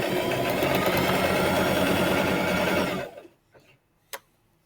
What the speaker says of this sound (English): We're going to do stitch, a couple back stitches